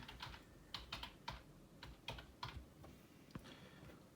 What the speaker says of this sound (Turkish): Ee, şifresini yazıyorum.